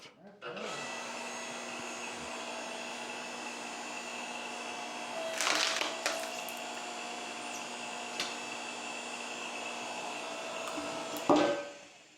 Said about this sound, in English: Jill's going to take her trusty splitter here, and let's pop this new one in half